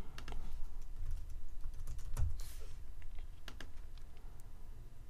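Someone types on a computer keyboard while entering a domain name during a web hosting setup. The keystrokes are quiet and close, with irregular clicks and a few louder taps in a steady burst, and no one speaks.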